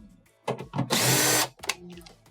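A power drill removes screws from the water valve of a Whirlpool refrigerator, giving a loud half-second whir between brief clicks and handling noises.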